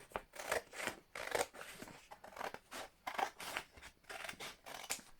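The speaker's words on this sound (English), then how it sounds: "Now I'm going to cut down the middle here" Scissors snip down the middle of folded paper for a DIY Chinese dragon puppet, a steady series of close, crisp cuts repeating roughly twice per second, soft but clear.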